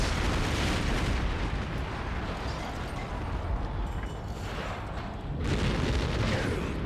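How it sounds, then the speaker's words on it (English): A loud, booming explosion in Metal Gear Solid with a roaring blast that fades into rumbling, followed by another surge of noise near the end. "Oh, so that's a big explosion."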